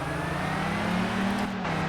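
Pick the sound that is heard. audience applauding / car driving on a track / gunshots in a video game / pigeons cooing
car driving on a track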